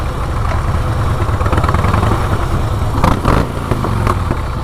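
A motorcycle engine idles with a steady low rumble, with a brief louder rev or passing sound near the end.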